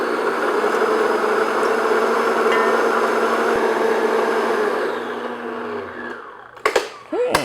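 An electric mixer beats an egg into red velvet cake batter with a steady, loud whirring hum for about six seconds, then winds down and stops, followed by a few light clinks against the bowl.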